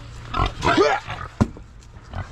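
Pigs grunt and squeal up close as they are fed chunks of pumpkin on a farm, several short bursts and a rising squeal, with a sharp knock partway through.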